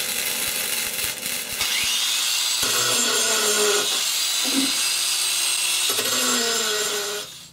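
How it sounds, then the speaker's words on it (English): A power saw cuts a wooden axe handle for a survival machete build: a steady high whining rasp that pauses twice, with faint knocks, then runs down at the end. "I'll cut the handle to length that we're going to use, and then I'll put it in my saw and split it in half"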